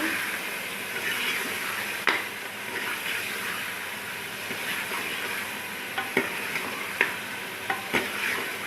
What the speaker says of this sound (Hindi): ये 2 से 4 मिनट हम इसको इसी तरह भूनेंगे